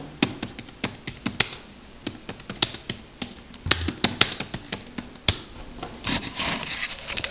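Keys on a keyboard clack in quick irregular bursts as a search is typed, close and crisp with brief pauses between strokes.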